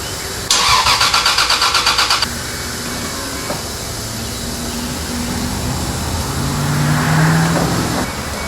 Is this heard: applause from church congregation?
no